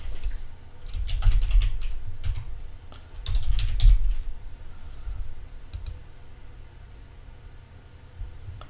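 Computer keyboard typed in short bursts of quick clicking keystrokes, separated by pauses, close and fairly quiet over faint background hiss.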